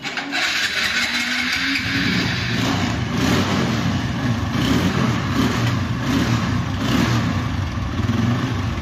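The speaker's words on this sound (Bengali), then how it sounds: "বাইকের যদি সাউন্ড কোয়ালিটি আপনাদেরকে দেখিয়ে দিই। দেখতেইছেন বাইকটি আপনাদের অন করে দেখাচ্ছি।" A motorcycle engine, a low-priced used bike, starts and runs steadily at close range, a loud continuous drone with slight revving swells and no talking.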